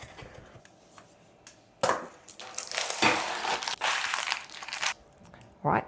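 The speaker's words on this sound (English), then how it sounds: "Work a sharp knife just around the edges just to loosen them up." A sharp knife scrapes and crunches around the edges of metal cake pans to loosen chocolate cakes, heard up close as gritty rasping strokes in uneven bursts.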